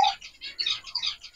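A pet bird, unwell with a cold, gives a quick run of high, bright chirps and tweets, close and clear against a quiet background.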